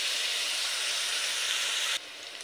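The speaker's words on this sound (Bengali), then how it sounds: "এবার গাজর আর বিনস একটু নরম করে ভেজে নেব।" Carrots and beans frying in a pan for Bengali-style shrimp fried rice give off a steady, dense sizzle and hiss that drops abruptly quieter near the end.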